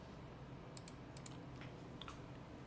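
A handful of light computer keyboard keystrokes, tapping in short irregular bursts, faint and close over a steady room hiss, with no talking.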